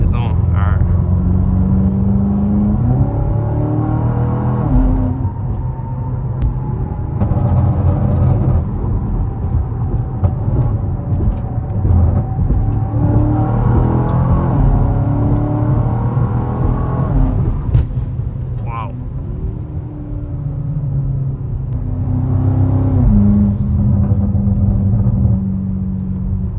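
A BMW G99 M5 fitted with downpipes cruises on the highway, a steady engine drone and road rumble filling the cabin, with a voice talking over it now and then.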